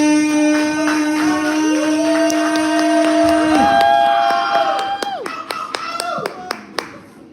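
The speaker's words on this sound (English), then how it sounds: "give her a round of applause" An audience at a live spoken-word open mic breaks into clapping and cheers under sustained musical tones, then thins to scattered individual claps near the end.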